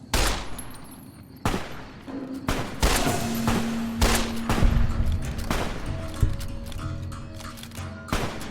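A companion's gunfire in Fallout New Vegas, rendered as a series of sharp, loud shots at irregular intervals, with a sustained tone and some low thuds between the bursts.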